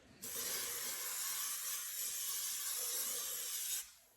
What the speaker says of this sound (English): See, sprayed that really good.